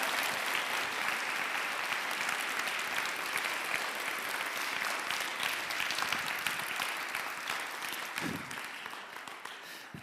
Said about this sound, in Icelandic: Það má klappa held ég.